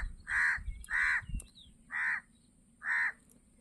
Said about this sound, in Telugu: బహుశా ఇక్కడికి కాకి వచ్చింది కదా